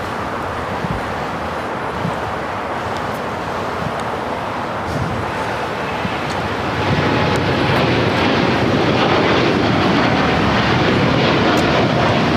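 Boeing 787-9 Dreamliner jet at Los Angeles airport, its engine roar a steady broadband rumble that swells louder partway through and holds strong to the end, with no voices.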